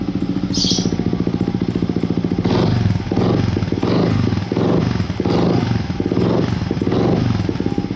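A Yamaha Vixion Adventure motorcycle with upgraded modified parts idles with a fast steady thump, then is revved in a few short repeated blips that rise and fall, loud and close, with no talking.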